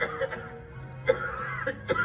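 A man playing a father in a school Republic Day play skit coughs in two short, close bursts over a murmuring hall.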